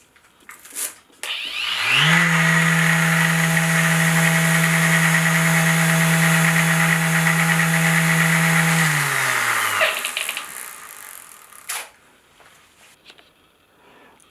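A random orbital sander fitted with 3M Xtract abrasive and hooked to a shop vac spins up and runs loud and steady for about eight seconds with a strong motor hum, then winds down, leaving faint handling noises.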